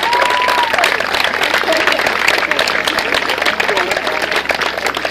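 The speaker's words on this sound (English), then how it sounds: "How about a round of applause for those guys?" A crowd at a 13U Babe Ruth Mid-Atlantic Regionals baseball tournament in Niskayuna, New York applauds steadily and loudly for the event sponsors, with a dense continuous clapping wash and scattered voices mixed in.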